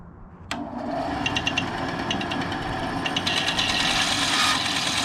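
SKIL 9-inch band saw switching on and running steadily through a cut for a school woodworking project, a sudden start followed by a continuous close whirring drone with light rattling, no talking.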